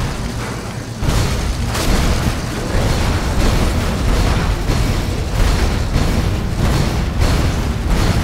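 Heavy explosions erupt in Dead Rising 3, a PC co-op boss fight against a biker gang leader. After a brief lull, loud, continuous booming sets in, with repeated rumbling blasts and crackling bursts running for several seconds.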